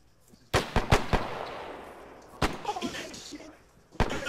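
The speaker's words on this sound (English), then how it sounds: "Oh, I just got shots incoming." Incoming gunfire in a WW2 game: sharp, close bangs in a quick cluster of four, a single crack later, then another, each followed by rumbling, debris-like decay.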